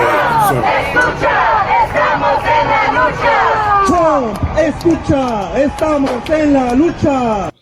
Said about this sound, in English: There's currently crazy riots going on in LA as we speak